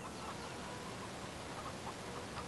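Chicken clucking from a rooster in the farm game Farming Simulator 2015, faint and intermittent over a steady background hiss, with no one talking.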